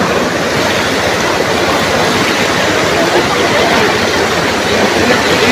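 Strong typhoon floodwater current rushing through flooded streets near a junkshop in San Juan, a loud, steady, broadband roar that continues unbroken throughout.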